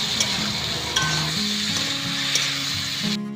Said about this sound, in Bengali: এবার ডিম ভাজা তেলের মধ্যেই পরিষ্কার করে ধুয়ে রাখা আলু আর পটল দিয়ে দেব এবার পটল আর আলু খুব ভালো করে নেড়ে নেবো